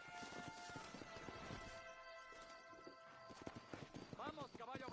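Horse hooves clip-clop steadily in the Red Dead Redemption video game, a close, continuous patter mixed with tonal background sound while people talk over it throughout.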